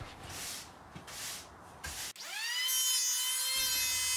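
Padauk hardwood fed through a thicknesser: a loud, steady planing roar with a high whine, running continuously for about two seconds after earlier bursts of rough rubbing noise.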